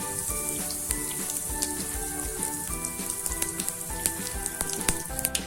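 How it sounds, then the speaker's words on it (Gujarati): Mustard seeds and cumin spluttering in hot oil for a Gujarati bitter gourd curry: a steady close sizzle with scattered sharp pops and crackles throughout, no talking. "હવે આપણે રાઈ ને જીરું ફૂટી ગયા છે"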